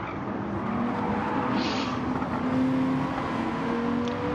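A BMW and other race cars in Gran Turismo 7 drone steadily, engines holding a sustained, moderately loud tone with a brief swell of tyre or engine noise near the middle.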